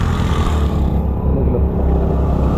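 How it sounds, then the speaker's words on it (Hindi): Motorbikes on a bike tour pass by a river in Khuzdar, Balochistan, their engines a loud, continuous roar of droning noise throughout with no clear gaps. "तो भाई ये बाइकें निकल रही है,"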